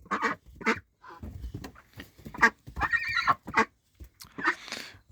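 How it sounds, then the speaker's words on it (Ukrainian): Female domestic ducks quack loudly in a close, busy flock, a run of harsh, uneven calls of varying length overlapping one another, with no talking. "Голос качура тихий кра-кра, а качок дуже голосний."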